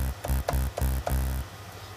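A distorted synth bass made from a single Massive synthesizer oscillator routed to a filter plays four short, punchy, buzzing notes in an even rhythm, then a sustained tail. The sound is loud and close, with no voices.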